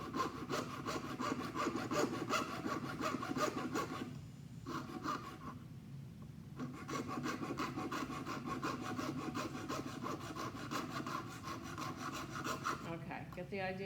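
Steady, rhythmic sawing rasps close up, brief pauses interrupting the back-and-forth strokes on a thin metal wire coil wound on a dowel, cutting jump rings.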